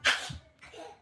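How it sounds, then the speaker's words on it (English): A single sharp human sneeze bursts out close and loud at the start, followed by a brief softer exhale and faint breathy sound. "Bless you, bless you."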